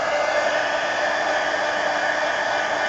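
A hair dryer blows steadily over splattered paint on a string art journal page, a loud, even whooshing hum that runs unbroken throughout with no talking.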